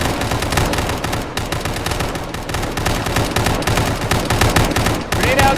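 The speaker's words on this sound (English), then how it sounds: "Taking fire from the south, southeast." Dense rapid gunfire from ArmA infantry combat, rifles and machine guns cracking in overlapping bursts at close range, steady and loud throughout with brief pauses.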